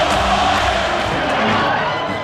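A packed basketball arena full of frenzied fans roaring and cheering, a dense, loud, continuous crowd wall of sound with no breaks.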